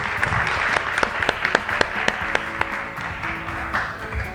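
An audience at a business event in Brazil claps steadily for several seconds, dense applause with sharp individual claps standing out and a voice talking briefly underneath.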